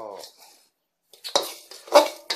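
A utensil scrapes and clinks in a pan while sticky rice, lemongrass and galangal dry-roast, with a few short, close metallic strokes separated by a brief quiet pause.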